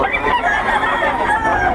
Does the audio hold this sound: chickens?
yes